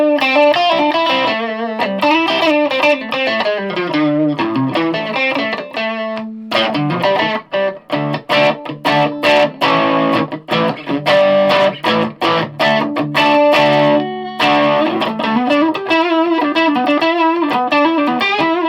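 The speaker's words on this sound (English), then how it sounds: "this would be my lower middle distortion pedal" Electric guitar played through a Funny Little Boxes Skeleton Key distortion pedal, loud and close, moving between sustained riffs and choppy, staccato chords with no voices.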